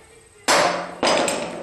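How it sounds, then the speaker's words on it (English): Two solid taps from a rubber dead blow hammer strike an 8-inch metal bolt during rear leaf spring removal, about half a second apart, loud and close. "got my trusty dead blow hammer"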